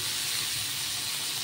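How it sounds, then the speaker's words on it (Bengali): Pointed gourd (potol) frying in oil in a pan, giving a steady close sizzling hiss with no pauses. "এখানে দেখো পটলটা ভাজতে দিয়েছি"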